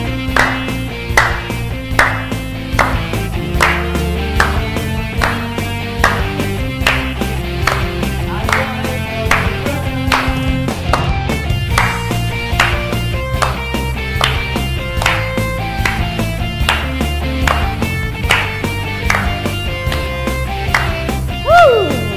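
Clapping during an online teen church service, a steady rhythmic beat of claps carried over loud worship music with a held tone throughout, no voices standing out.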